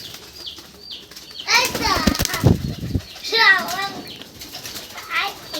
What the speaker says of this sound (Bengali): না এখন উড়ালেও সমস্যা নেই, চলে আসবে সব কবুতর।